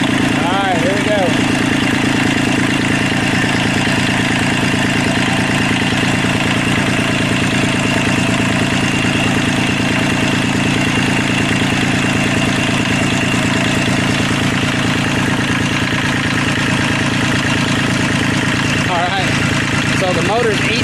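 A Kubota tractor engine with blow-by runs steadily at idle, a continuous close, loud mechanical rumble that holds throughout with no pauses.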